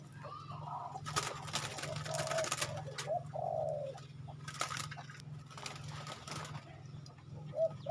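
Young pigeons in a cage give soft, low cooing calls in short repeated phrases, fairly quiet and close, over a steady low background hum.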